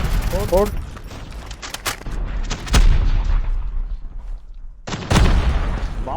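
Machine gun fire from Call of Duty Mobile rattles in dense, repeated bursts, loud and near, with several gamers chatting over the shooting throughout.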